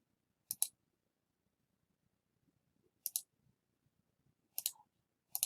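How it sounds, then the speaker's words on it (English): Computer mouse clicks sound in separate sharp pairs, four double-clicks spaced a second or more apart, close and clean over near silence. "So we'll click once in the chart"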